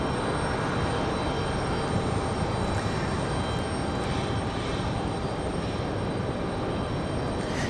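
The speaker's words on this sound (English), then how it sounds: "Got a 737-9 for Delta on the way out." A Delta Boeing 737-9 departs from Raleigh-Durham, its jet engines producing a dense, steady broadband roar that stays fairly even throughout, with no one talking.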